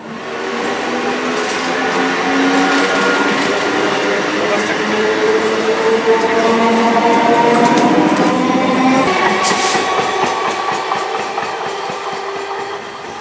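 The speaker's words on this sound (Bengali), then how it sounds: "Train number 31471 up Noihati local is arriving." A Naihati local train rolls into a station with a loud, steady rumble and clatter of wheels on rails and rising tonal whines, close by, slowly fading near the end.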